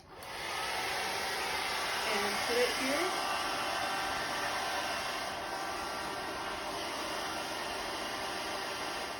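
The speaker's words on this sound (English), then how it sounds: "I cannot fall asleep if I don't have my hair dryer right next to me" A hair dryer blows with a steady, constant whoosh, close and even, while someone briefly speaks under it.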